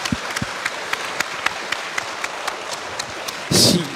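An audience at a science talk on animal cognition claps for a speaker, with sparse individual claps spread out at first and then a short, louder burst of applause at the end.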